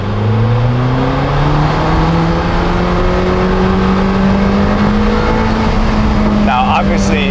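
A 2026 Lamborghini Temerario hybrid supercar corners hard on the road. A loud, steady drivetrain drone climbs gradually in pitch, heard close and continuous from start to finish.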